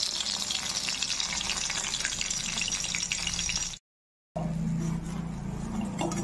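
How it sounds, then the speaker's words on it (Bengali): Cornflour-coated cabbage pieces fry in a pan with a loud, dense hiss that fills the clip. It cuts out briefly near the middle and then returns just as strong, with no talking. "এখন এগুলো ভেজে নিচ্ছি আমি"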